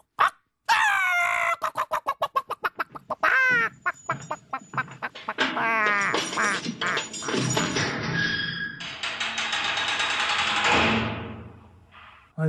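A comedian imitates a rooster crowing in a Korean radio studio. The voice gives a loud, drawn-out cock-a-doodle-doo with rising and falling strained calls, then a long sustained crowing wail that ends abruptly.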